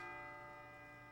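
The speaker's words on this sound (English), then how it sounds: "It sounds like a bell, but where's it coming from?" A bell rings out in Persona 3 FES as one faint sustained tone, its ringing partials holding steady and slowly fading across a brief moment.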